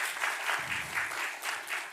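Audience applause at a French public-sector workshop session, a steady wash of many hands clapping at moderate distance, filling the whole moment without any voices over it.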